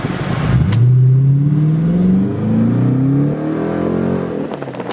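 A car with a newly installed pedal box accelerates hard in first gear. The loud, close engine note climbs steadily in pitch before easing off near the end, with no voices.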